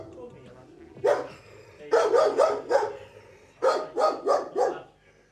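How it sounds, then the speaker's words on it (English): A dangerous dog attacking barks and snarls in fierce clusters, one bark followed by two rapid bursts of three or four loud, close barks each, with short pauses between. "immediately the dog goes on the attack"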